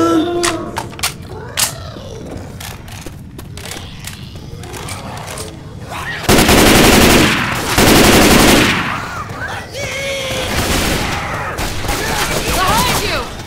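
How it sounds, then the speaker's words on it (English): Machine gun fire in Left 4 Dead 2 bursts in rapid clattering volleys, with sparse shots early on before long, loud sustained bursts take over, alongside other game noises. "Machine gun?"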